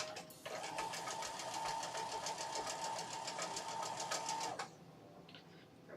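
A home sewing machine stitches in one steady run of fast, even mechanical rattling with a humming motor, close and clear, then stops abruptly.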